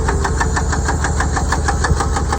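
Car engine with a rod knock, running steadily with a loud, rapid, regular metallic knocking that repeats evenly over the engine's drone from start to finish, alone and close.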